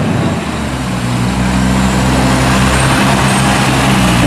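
A farm trailer bringing in a second load of maize rumbles steadily close by, a loud continuous engine drone with low tonal hum and no break, during a 2016 maize harvest.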